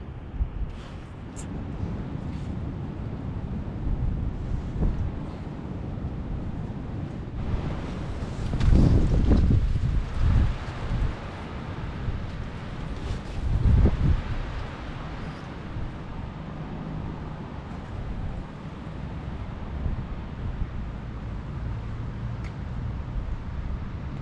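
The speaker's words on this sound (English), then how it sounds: "The wind is so bad, but it's dry at the minute" Strong, steady wind buffets the microphone at an outdoor fishing match during a festival, a continuous low roar with louder gusts swelling midway and no talking over it.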